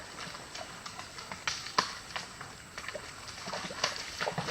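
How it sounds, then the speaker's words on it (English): Hooves of two ridden horses splash and clop through a shallow creek on a trail at a steady walking pace, with scattered rustling and faint background noise. "Comes Mary Lynn on Benji and Dylan on Jet, coming on through the creek."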